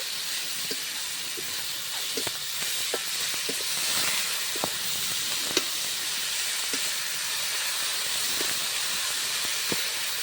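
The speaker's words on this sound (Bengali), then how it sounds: "একটু বাঁধাকপিটা ভালোভাবে কষিয়ে নেব।" Shredded cabbage sautés in a pan for vegetarian khichuri, giving a steady, close hiss and sizzle with scattered soft clicks and taps of stirring.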